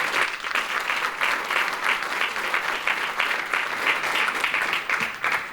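An audience at a school board meeting applauds scholarship recipients with dense, steady clapping. The applause stays loud and sustained throughout, with no speech over it.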